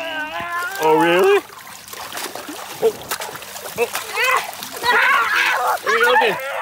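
Cold water splashes onto a child during outdoor play, a few wet bursts of splatter mixed with excited children's voices and shrieks, close and fairly loud, with talking throughout.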